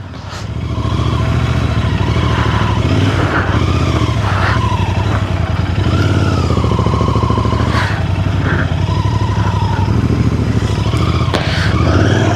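A motorcycle's rear tire skids while the engine drones steadily, with rising and falling squeals and scrapes over a continuous loud motor, close to the rider, no speech.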